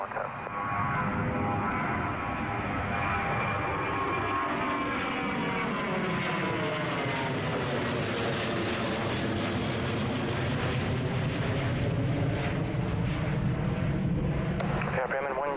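An Emirates Airbus A380 landing on runway 23 right in gusty wind, its engines roaring steadily and loudly with a slowly shifting drone over the whole stretch, while a person talks throughout.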